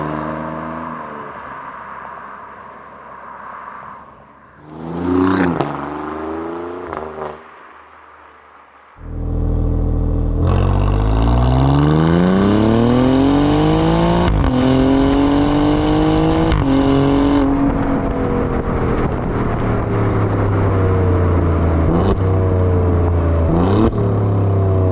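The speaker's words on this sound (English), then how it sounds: "what a noise this engine also produces at those higher RPMs." A 2024 Alfa Romeo Giulia Quadrifoglio's turbocharged engine is heard from inside, first idling and blipping, then roaring loud as it climbs steadily to high RPM in a long rising pull with brief shift dips.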